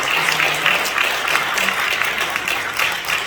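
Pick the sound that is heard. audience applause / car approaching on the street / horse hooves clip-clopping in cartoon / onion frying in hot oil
audience applause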